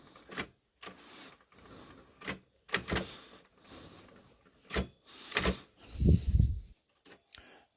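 Keys of an almost 80-year-old Remington Rand KMC typewriter being cleaned, heard as scattered sharp clacks and taps at irregular intervals with a brief rustling scrub near the end, fairly quiet and close.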